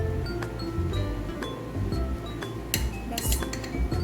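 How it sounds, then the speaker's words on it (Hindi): A spoon stirs mug cake batter in a ceramic mug, producing rapid clinks and scraping taps against the sides in a busy, close, continuous rhythm. "अब इनको हम थोड़ा सा मिक्स कर लेंगे"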